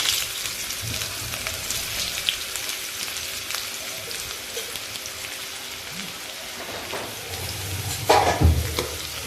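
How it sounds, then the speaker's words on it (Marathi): Chopped onion sautéing in two spoons of hot oil in a kadai, a steady soft sizzle with scattered stirring scrapes and a louder clatter of stirring near the end. "त्यामध्ये मी बारीक चिरलेला कांदा हा परतून घेणार आहे।"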